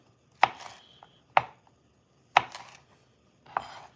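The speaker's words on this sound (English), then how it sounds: "We're gonna mince them, and these are fresh garlic. Let's mince them." Fresh garlic minced with a knife on a cutting board: four crisp, separate chops spaced about a second apart, close and fairly quiet, with no talking.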